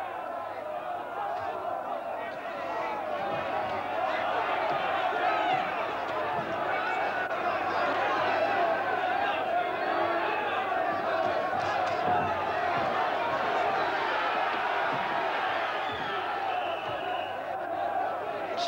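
A boxing arena crowd roars and chants for Ray 'Boom Boom' Mancini in his 1989 fight against Hector Camacho, a sustained, loud, distant wall of cheering and shouting that never lets up, with a commentator's voice carrying over it.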